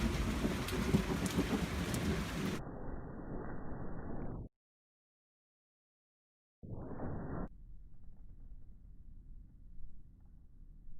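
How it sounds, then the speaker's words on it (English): Heavy rain pours during a thunderstorm, with low rumbling under the downpour, then a cut to silence before quieter rain resumes, with a soft thunder-like rumble near the end. "there's the positive thunder, man"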